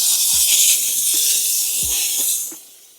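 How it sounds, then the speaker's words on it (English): A car-detailing steam cleaner releases a loud, steady hiss of steam close by, broken by a few dull knocks, before the hiss tapers off at the end. "start steaming here and start agitating. So again, right away, put the steam out away from me"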